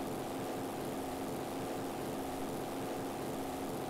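A steady, droning propeller engine of a plane in the video game Hellcats Over the Pacific, running rough, hums loudly with a pulsing, slightly uneven beat, running continuously without pause.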